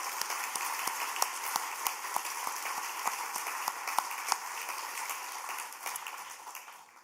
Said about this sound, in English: Can we please give Camila a well-deserved another round of applause?